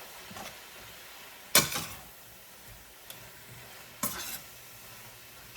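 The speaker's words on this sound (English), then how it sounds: "Okay, I'm gonna stir that up." Fish fried rice is stirred in a pan, with two loud scraping stirs and a few lighter clinks over a quiet, low sizzle.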